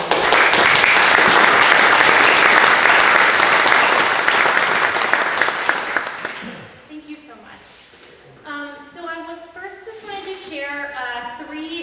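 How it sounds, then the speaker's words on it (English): Applause from the audience at a township ordinance-vote meeting in Hobbie Township swells into a dense, sustained round of clapping lasting several seconds, then fades as a single voice begins speaking alone. "can we all give them a round of applause?"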